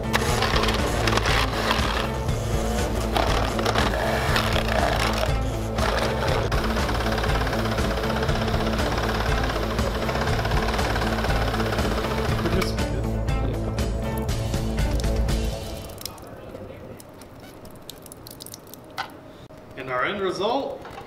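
Blender blending a Coke can with Orbeez: a loud, close motor roar with knocking and rattling that runs for about fifteen seconds, then cuts off, leaving quieter handling noise.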